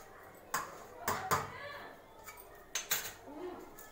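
A spoon stirs grated coconut and raisins into a pot of kheer, giving several sharp metallic clinks and taps against the pot with quiet gaps between them, close and fairly faint, with soft talking underneath.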